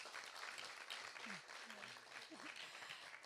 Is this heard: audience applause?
yes